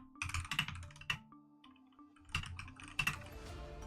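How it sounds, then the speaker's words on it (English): Rapid typing on a computer keyboard comes in bursts of clustered clacks, a pause in the middle and then more quick keystrokes, close and fairly quiet, with no talking over it. "So excuse my typing for just one moment while we do this."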